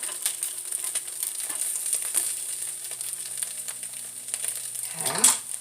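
Salmon patties fry in a pan with a steady, fairly quiet crackling sizzle, dotted with small pops and a brief louder scrape of stirring near the end.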